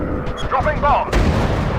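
A bomb dropped from a World War I plane explodes in a video game, heard as a sudden loud boom that follows a short stretch of game effects and a radio-style voice.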